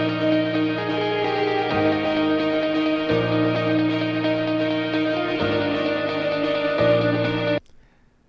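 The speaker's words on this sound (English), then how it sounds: "So once I kind of got the piano and the guitar in the mix, I was loving the way that it was going." A piano and guitar loop plays together in a studio song mix, sustained chords shifting every second or two in a steady, close, full sound before cutting off abruptly near the end.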